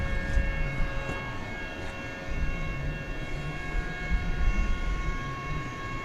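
An aircraft air start cart runs at DFW Airport at night, giving a steady droning hum with sustained whining tones and low rumble, fairly distant and constant.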